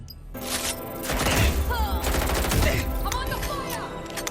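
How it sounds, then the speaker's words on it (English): Gunfire in the video game Watch Dogs: Legion, loud bursts of shots and crackling impacts running through most of the passage over a dense game soundtrack. "I'm under fire!"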